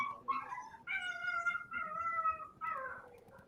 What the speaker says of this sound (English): At least I'm not the only one with noisy dogs.